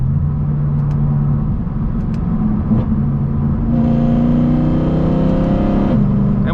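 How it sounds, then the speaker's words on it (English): Engine and exhaust of a Mercedes C63 AMG on the road, a loud continuous rumble that rises in pitch as the car downshifts and revs, heard from inside the car with no talking. "unless I just feel like downshifting and listening to the engine, or the exhaust note, I should say."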